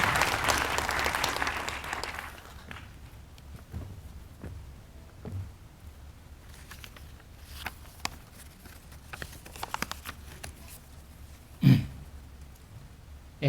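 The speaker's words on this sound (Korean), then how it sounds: "큰 박수로 맞아주시기 바랍니다." Applause from an audience welcoming a consul general at a North Korean human rights week event in Australia, loud for about the first two seconds then fading into scattered claps, shuffling and a throat clear in a quieter room.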